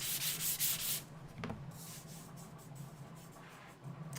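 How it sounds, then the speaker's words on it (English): Hand sanding block with 320 finishing grit rubs across a painted cosplay prop, giving a close, dry scratchy rasp in a few quick strokes, then quieter intermittent scuffing after a pause. "I've got a hand sanding block here. I think it's like 300, maybe 320, I think 320."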